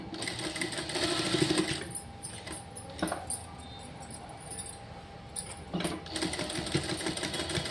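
A sewing machine stitches a buttonhole strip on fabric, a close mechanical whirring run in bursts separated by brief pauses and clicks.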